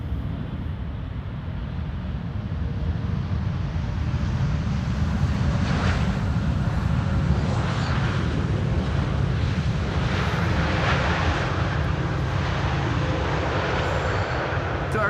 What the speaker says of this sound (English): Turkish Airlines flight 1951, having arrived from Istanbul in Turkey.